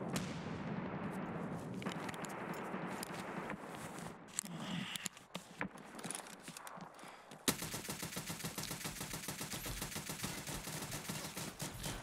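Automatic rifle fire in Escape from Tarkov SPT, rapid bursts of shots from a firefight that end in a sharp cut to a denser, harsher volley of continuous fire.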